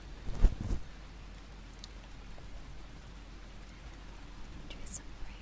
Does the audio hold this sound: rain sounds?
yes